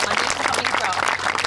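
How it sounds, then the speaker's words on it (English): Wedding ceremony guests break into a burst of applause, a short, dense wash of clapping from a crowd, steady and fairly close throughout. "Round of applause for Daniel for organising all of that."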